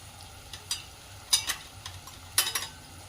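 Onion, chili and tomato fry in a pan for paneer bhurji, giving a soft steady sizzle broken by several scraping stirs of a spoon, close and alone.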